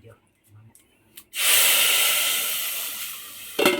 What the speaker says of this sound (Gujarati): મિત્રો વઘાર થાય છે